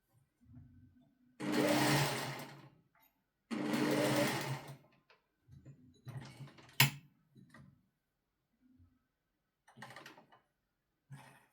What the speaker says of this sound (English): Let's make few stitches and try again after that.